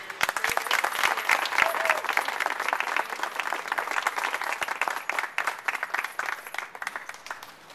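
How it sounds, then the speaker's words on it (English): A crowd gives a round of applause for a candidate for commissioner at an announcement event, sustained dense clapping from many hands that stays strong and steady throughout. "let's give her a round of applause"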